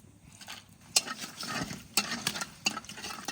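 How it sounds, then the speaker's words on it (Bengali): Whole spices, including cardamom, cloves, cinnamon, bay leaf and dried chillies, crackle in hot oil in a large kadai, with a few sharp pops over a soft sizzle and stirring scrapes, fairly quiet and with no talking. "এলাচগুলো ফাটাইছি তো, পটপট করে ফোটে।"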